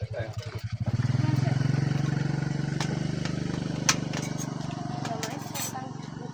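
A nearby motorcycle engine runs steadily, its low throbbing hum starting up and holding at a constant idle for several seconds, with faint clatter on top and no talking.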